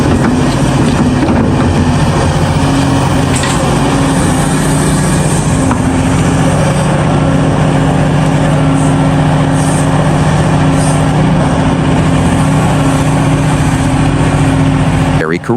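CAT 349E and 365C excavators loading Mercedes and MAN trucks, a loud, constant diesel engine drone with steady low tones, plus occasional faint clanks, running throughout with wind noise.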